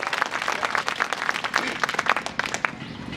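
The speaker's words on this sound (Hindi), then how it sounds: "अब जोरदार तालियों की गड़गड़ाहट करके बताएं कि सिद्धौर के लोग हैं और कविता ऐसे सुनते हैं।" A crowd at a Hindi poetry recital in Siddhaur claps vigorously, with sharp, distinct hand claps close by forming an uneven, lively burst of applause.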